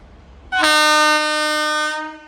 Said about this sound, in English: Capturing the departure of the train from Tumakuru.